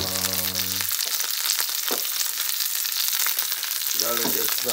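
Rump roast frying in beef tallow, a steady broadband sizzle running throughout, with a few brief clinks and a short tonal sound at the start and near the end.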